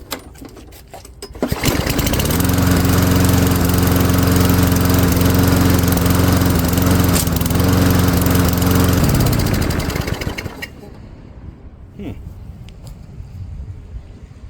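A small engine with a slight misfire starts up and runs loudly for several seconds with a steady drone and occasional stumbles, then shuts off into quiet background noise.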